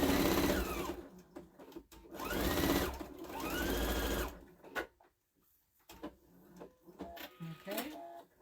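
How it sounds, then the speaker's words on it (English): Sewing machine stitching fabric for Santa placemats, with bursts of rapid mechanical whirring that start and stop, close and loud, then quieter clicks and handling noises. "I'm sewing this like 1/8 of an inch on this part"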